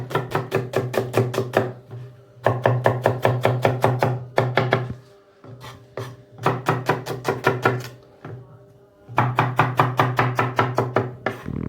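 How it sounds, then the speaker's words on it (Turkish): Rapid knife chopping of an onion on a cutting board in several bursts of quick, even strokes, with short pauses between runs; close and clear, no talking. "Evet soğanımızı doğradık."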